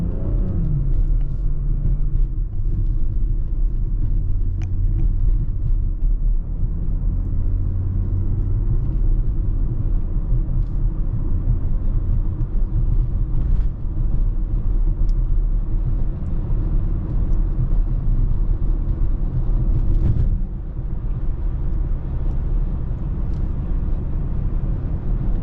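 A 2018 BMW X3 M40i on the road, its engine giving a steady, loud low rumble with road noise throughout and a brief dip partway.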